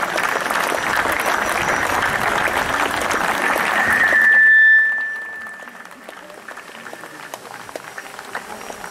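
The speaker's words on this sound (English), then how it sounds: "A big round of applause for Colonel Saxena and his members of the Army team." Audience applause at a school prize ceremony for a cycling tour event, a dense, steady clatter of many hands for several seconds that then cuts off sharply and leaves a quieter room with a thin high tone.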